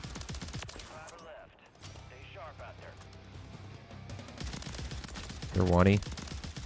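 Gunfire from a pay-to-win blueprint gun in Warzone Season 6, with sharp shots mixed under steady talking and one louder burst near the end.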